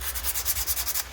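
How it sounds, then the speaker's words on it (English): Sanding a G10 workpiece by hand with a worn 60 grit pad, a quick series of rhythmic back-and-forth scratchy rubbing strokes, close and alone. "you want to do it with a pretty aggressive grit. This is a worn down 60 grit pad."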